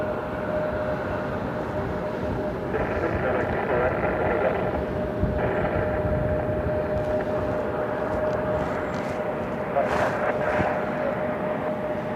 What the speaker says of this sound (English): Falcon jet over there. Dassault Falcon 50 inbound